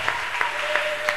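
Clapping from a church congregation during a lively worship service, with steady applause filling the room and rhythmic accents as hands keep time, plus a sustained tone running underneath.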